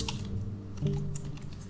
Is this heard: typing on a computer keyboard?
yes